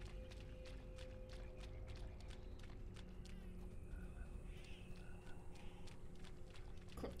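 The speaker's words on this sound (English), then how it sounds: "I hear croaking." Frogs croaking in a swampy area in the video game Dungeons and Dragons Online, faint intermittent croaks over soft footsteps and low ambient background, with quiet talk in the mix.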